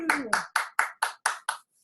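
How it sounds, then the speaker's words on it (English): A short burst of hand clapping, six or seven crisp claps in quick even rhythm, close and fairly loud, with a brief voice at the start. "Give yourself a round of applause"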